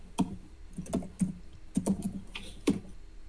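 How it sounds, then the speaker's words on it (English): Someone types on a computer keyboard while setting up a Discord bot, with irregular bursts of sharp key clicks close to the mic and short pauses between them. "You can type your name if you want."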